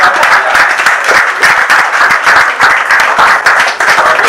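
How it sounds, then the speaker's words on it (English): An audience applauds at an event where Google is hosted at Computer Village in Ikeja, producing loud, sustained crowd clapping with dense overlapping hand claps for about four seconds and no voices above it. "Let's give her a round of applause for that."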